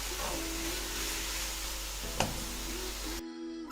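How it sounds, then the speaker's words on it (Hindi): Vegetables frying in a pan over medium heat for egg fried rice, a steady close sizzle and hiss running throughout with a single sharp clink partway through before it cuts off abruptly. "उस साइड पे हो रही है हमारी वेजिटेबल्स फ्राई"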